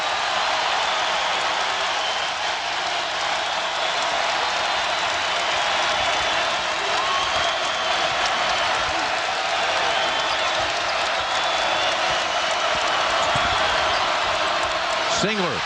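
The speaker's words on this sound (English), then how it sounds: "Crowd to its feet." A basketball arena crowd at a Duke versus North Carolina game rises to its feet, applauding and cheering in a loud, sustained roar that holds steady throughout, with commentary heard beneath it.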